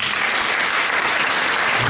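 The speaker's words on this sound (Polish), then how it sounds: "Wielkie brawa." A concert audience at a memorial music evening breaks into sustained applause, a dense, even wash of many hands clapping close by with no pauses.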